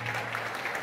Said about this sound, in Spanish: Fuerte el aplauso para Agustina